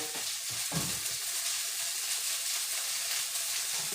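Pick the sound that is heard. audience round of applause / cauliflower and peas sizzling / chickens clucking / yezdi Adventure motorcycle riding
cauliflower and peas sizzling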